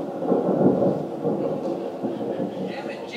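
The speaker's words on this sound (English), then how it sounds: "Wait a minute. It's thunder!" Low rolling thunder sound effect from a stage play of The Rainmaker, a sustained rumble that swells early then keeps grumbling faintly in a theatre space with no speech.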